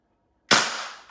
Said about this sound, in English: I'm about to shoot the cherry.